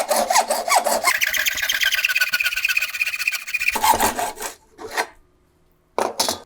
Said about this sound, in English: I'm going to use my hacksaw today.